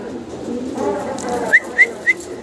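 Caged pigeons coo close by in a murmuring, low warble, followed by three short, bright whistle-like chirps in quick succession.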